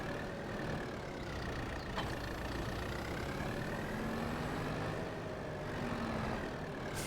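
Kubota tractor engine in Farming Simulator 22 runs at a steady mid-pitched idle, continuous and moderately close, with slight rises and falls in pitch and no talk over it.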